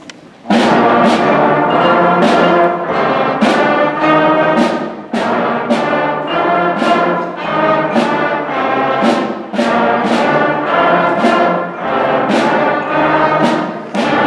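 School concert band brass and percussion performing a piece, with full sustained brass chords and regular percussion hits marking the beat, played loud and steady throughout.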